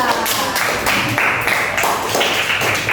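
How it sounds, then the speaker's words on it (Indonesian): Children in a sixth-grade classroom clap for a group of classmates, a loud, close rush of many small hands in rhythmic bursts, with voices mixed in beneath the clapping. "Tepuk tangan buat kelompok 2."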